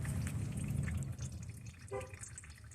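Engine coolant draining from a loosened hose on a 2011 Chevy Cruze makes a soft, close trickle and dripping, faint and uneven, with a brief bubbling gurgle near the end.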